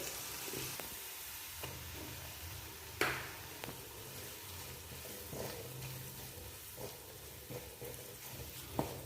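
Crushed garlic, shallots, curry leaves and chili powder sizzling steadily in hot oil, with occasional stirring scrapes and clinks of a spoon against the pan, close and fairly quiet, no talking.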